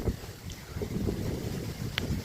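Steady gusty wind roaring across the microphone outdoors in a village as clouds gather before rain, a constant low rumble with buffeting throughout and no voices.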